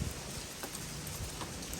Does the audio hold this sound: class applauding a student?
no